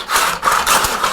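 A dull hand saw rasps through wood while cutting a joint for a pentagonal dovetailed bowl, giving several quick close-up back-and-forth strokes with short pauses between them.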